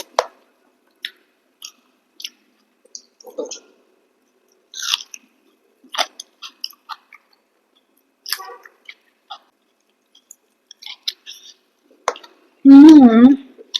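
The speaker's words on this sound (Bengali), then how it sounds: "আলু ভাতে দিয়ে খাচ্ছি।" Someone eats rice mixed with mashed potato and dal, with a spiced dal and an egg omelette on the side, giving soft, sparse, wet chewing and mouth sounds between brief talk, ending in a louder burst of voice.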